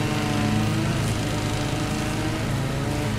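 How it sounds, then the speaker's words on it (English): Lawnmower engine running steadily throughout, a continuous loud droning hum with even harmonics and no pauses or voices. "That's a lawnmower."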